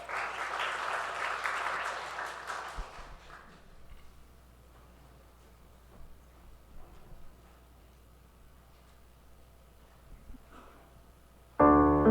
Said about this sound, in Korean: 우리 큰 박수로 맞이해 주시기 바랍니다